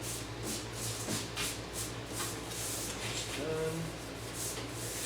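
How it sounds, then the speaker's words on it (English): A brush sweeps excess hot wax off a snowboard base in steady, continuous rubbing strokes, close and moderately quiet, with a low hum beneath. "you can kind of start brushing some wax off"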